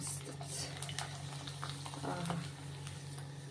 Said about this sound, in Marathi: तेल गरम झाले इथे आपण पापड सोडून घेऊयात